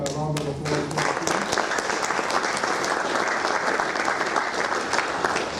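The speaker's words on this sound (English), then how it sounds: "Please give the big round of applause." Conference audience applauding in a sustained, dense wash of clapping, steady and fairly loud throughout, with a few speech-like tones near the start.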